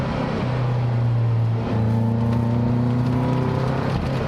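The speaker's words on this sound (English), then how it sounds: "I was on and off the throttle there, and it was very, very jerky" A Caterham Seven Roadsport 125 engine drones steadily, close and loud, with the note dipping briefly as the throttle comes off and then climbing again on throttle in a jerky rhythm.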